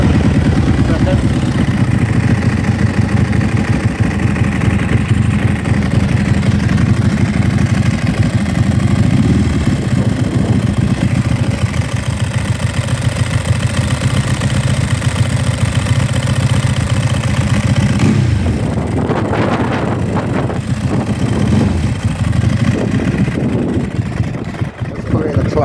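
A motorcycle idles steadily and close with an aluminium dry clutch basket and aluminium friction plates, a constant low rumble that dips and shifts near the end.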